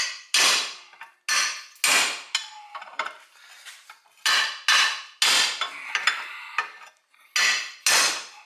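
Hammer blows ring out sharply and metallically as a control arm bushing from a 1968 Pontiac GTO is driven out in a vise, about ten loud, close strikes in an uneven rhythm with short gaps between.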